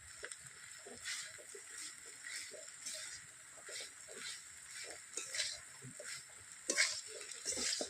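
Taro flowers and prawns being stirred with a ground mustard and cumin paste in a pan, giving soft repeated scraping and stirring strokes with a faint sizzle, quiet throughout and slightly louder near the end.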